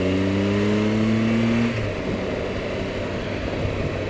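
A car accelerates hard to overtake on a bending road, its engine note climbing in steady rising tones for nearly two seconds before shifting and settling into a continuous rumble, heard close and loud with no talking.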